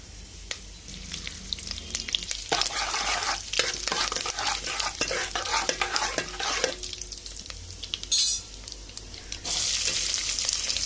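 Tempering spices sizzle and crackle in hot oil in a pan for a curd sambar, with steady stirring and scraping clatter throughout and a few sharp pops near the end.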